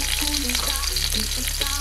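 Garlic, ginger and black pepper browning in hot oil for chicken adobo give a steady close sizzle broken by brief stirring scrapes, with no voices.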